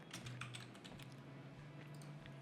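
Quiet keystrokes tap in a quick, uneven run on a computer keyboard as text is typed into a Figma design layer, close by over a faint steady hum.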